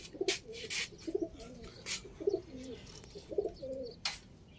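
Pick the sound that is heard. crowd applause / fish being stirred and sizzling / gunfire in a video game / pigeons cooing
pigeons cooing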